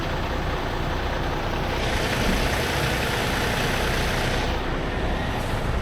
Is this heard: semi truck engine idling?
yes